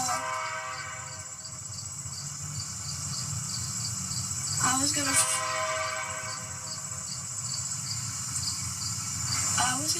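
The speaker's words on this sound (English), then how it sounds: "A boy has a special message, but he's having trouble competing with a passing train." A freight train rolls past with a steady rumble and clatter, and its horn sounds twice, loud and nearby, while crickets chirp and a voice talks briefly.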